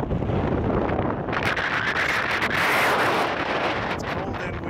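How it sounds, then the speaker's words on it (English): Strong, cold wind on a Rocky Mountain National Park trail at 12,005 feet buffets the microphone in a steady, loud roar with gusts rising and falling, no other sounds standing out. "It's cold and it's windy up here."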